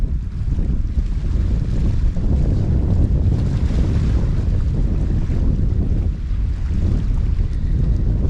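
Steady, loud wind gusting across an exposed seashore fishing mark on the Bristol Channel, buffeting the microphone with constant low rumble and roar, a rod tripod standing in it, no voices.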